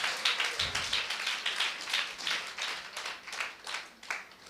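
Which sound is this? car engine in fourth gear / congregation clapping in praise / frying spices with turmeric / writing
congregation clapping in praise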